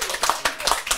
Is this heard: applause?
yes